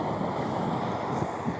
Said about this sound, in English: Whoa, the waves are coming.